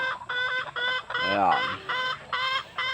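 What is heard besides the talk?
chickens clucking on breeder's farm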